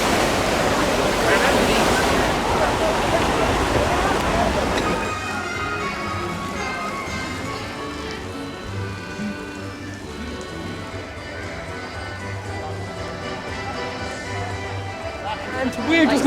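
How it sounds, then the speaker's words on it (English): Rushing water on the Congo River Rapids raft ride at Alton Towers in the rain, a loud broad wash of splashing and churning that eases into a steadier, quieter flow, with voices audible underneath. "Congo Rapids in the rain."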